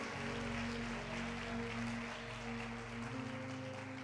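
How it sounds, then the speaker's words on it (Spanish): Church congregation applauding, a dense continuous wash of clapping under a steady low hum, loud and sustained throughout. "Por favor, aplauda, aplauda fuerte."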